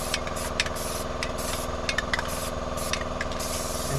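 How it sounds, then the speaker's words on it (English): Aerosol rust protectant such as Surface Shield or Fluid Film sprayed over the front brake hub of a 2016 Scion tC, a steady hissing spray with short bursts, close up, over a constant background hum. "Use some surface shield or fluid film. I like to spray the hub down real good here."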